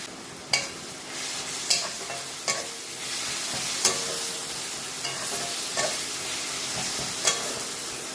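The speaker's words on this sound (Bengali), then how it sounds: "কড়াইতে সরষের তেল গরম করে পটলটা যে ঘষে রেখেছিলাম সেই পটলটাকে আমি এবার দিয়ে দিলাম।" Grated pointed gourd fries in hot mustard oil in a wok, a constant low sizzle punctuated by about seven distinct, evenly spaced clacks of a spatula stirring, with no voices.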